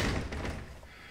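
A brand new front door of a house swinging shut with a single solid thud at the start, followed by a fading low rumble of the room.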